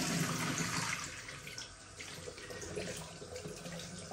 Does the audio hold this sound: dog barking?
no